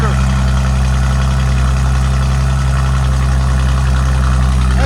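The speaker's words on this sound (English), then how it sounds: "That's a cold start." A Mercedes E 400 with a 3.0L twin-turbo V6 idles after a cold start, a loud, steady, deep engine drone with throbbing low rumble and continuous exhaust tone, heard up close.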